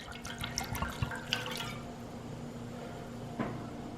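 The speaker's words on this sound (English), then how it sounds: "take any red wine you have lying around, add that to a pan or a pot" Red wine poured from a bottle into a pan or pot for a caramel sauce, a soft splashing trickle up close for about two seconds, then a faint quiet kitchen with a small clink.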